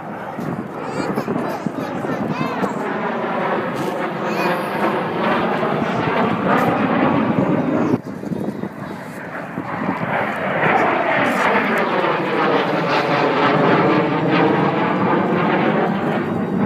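A fighter aeroplane flies an aerobatic display at the Temora airshow, its engine roaring loudly and continuously as it sweeps past with rising and falling pitch, while a commentator talks over it.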